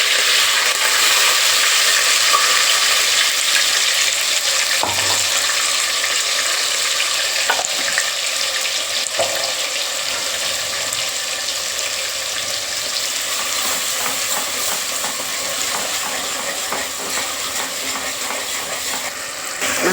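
Ground masala and curry leaves frying in hot oil for hotel-style sambar, giving a steady, close, loud sizzle throughout with soft stirring scrapes and occasional spatters.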